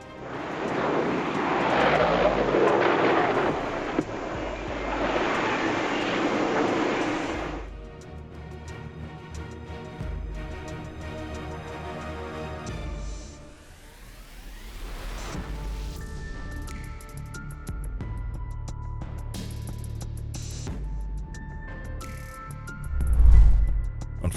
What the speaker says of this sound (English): a light transport plane crashed in a flash of flame at the Farnborough Airshow